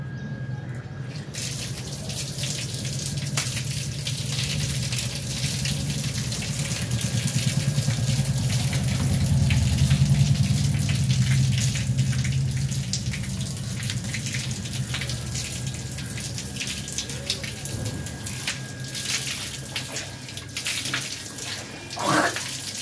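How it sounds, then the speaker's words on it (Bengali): Water runs steadily from a tap during face washing, a continuous close gushing flow with splashes and shifting swells as hands move through the stream. "এখন মুখটা ধুবো।"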